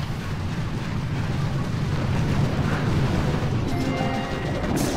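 A sustained, roaring explosion rumble from a cannon being destroyed in the video game Boom Beach fills the clip with heavy low-end noise, loud and continuous, with faint crackling debris near the end.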